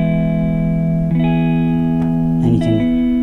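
Guitar notes from the SSW Guitarist iPhone app, a steady sustained tone that shifts pitch near one second, then several quick plucked notes toward the end, clean and close with no talking.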